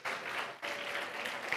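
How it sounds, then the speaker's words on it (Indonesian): Audience at an elementary school graduation applauding the multimedia operator, a steady wash of clapping from a crowd with a brief dip partway through. "Boleh tepuk tangan untuk Kak Zura."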